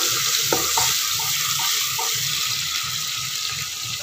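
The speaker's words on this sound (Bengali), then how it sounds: "ভালো করে পেঁয়াজটা আমি ভেজে নেব।" Onions fry in a pan with a steady, loud sizzle and hiss, broken by a few soft clinks and stirring sounds, with no voices.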